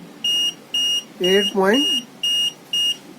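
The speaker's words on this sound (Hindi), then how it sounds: "जब नीचे जाता है ये बजर आपको आवाज आ रही होगी" Short electronic buzzer beeps sound at a regular rhythm, five in all, with a brief voice speaking between them in the middle, from a 12V/24V UPS board's low-battery alarm as voltage drops below about 8.5.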